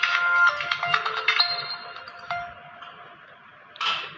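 A newly unboxed mobile phone plays a bright melodic ringtone through its built-in speaker, a string of clear electronic tones that fade out and then a brief burst of hiss near the end.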